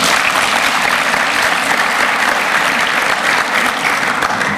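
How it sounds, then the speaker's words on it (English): An audience at a tax law seminar breaks into loud, sustained applause, a thick, continuous roar of many hands clapping at full strength from start to finish with no talking. "I think we should give them an applause"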